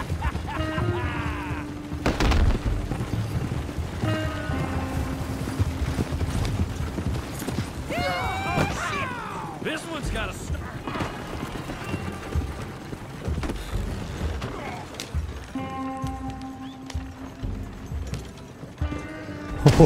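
Horse hooves clip-clop at a gallop in Red Dead Redemption 2, a steady drumming close up amid game music, engine-like tones and brief voices.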